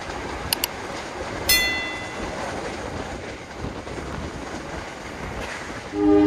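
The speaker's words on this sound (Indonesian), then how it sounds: "Saya udah ada di stasiun Purwosari." A train at Purwosari railway station in Indonesia rumbles with a steady low roar, brief clanks and a sharp metallic squeal near the start, then a rising heavy swell at the end.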